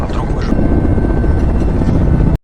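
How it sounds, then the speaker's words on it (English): A helicopter roars with a loud, steady rotor drone close by, holding constant before cutting off abruptly. "watching the helicopter disappear"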